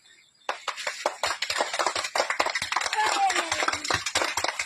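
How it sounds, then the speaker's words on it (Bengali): An audience claps for a papad seller's song in a burst of quick, uneven claps that build and keep going for several seconds, with voices mixed in. "হাততালি হাততালি"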